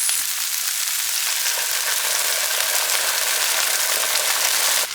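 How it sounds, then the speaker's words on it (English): Onion and green chilies sautéing in avocado oil over medium heat in a pan, giving off a dense, steady sizzle that stays close and loud without a break before cutting off at the end. "First, I want to add my onion. Get that sauteing. Next, I'm going to add in my green chilies."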